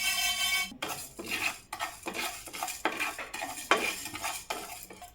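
Fennel seeds and spices being stirred and lightly dry-roasted in a pan, giving repeated scraping, clinking strokes of a spoon against metal with a faint sizzle, close and fairly quiet, with no talking.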